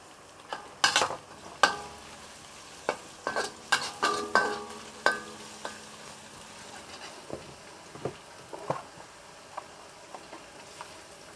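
Garlic and ginger fry in a pan with soft sizzling beneath a series of sharp scraping and clattering stirring strokes, irregular and close, tapering off toward the end.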